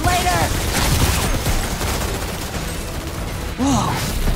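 Dense gunfire from the video game Outriders crackles continuously in a loud, chaotic barrage. Brief voice-like tones and game effects sweep through near the start and again toward the end.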